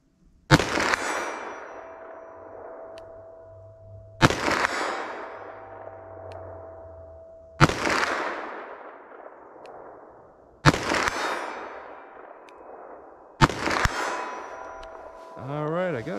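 .357 Magnum Buffalo Bore Barnes low-flash rounds fired outdoors: five loud, sharp gunshots spaced about three seconds apart, each with a ringing tail that decays slowly between shots.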